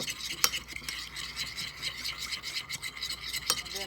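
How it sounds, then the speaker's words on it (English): Ingredients for a chicken fajita salad being mixed in a bowl, a steady close scraping and rubbing with occasional sharper clicks of the utensil, fairly quiet throughout. "And we're just going to give that a good mix."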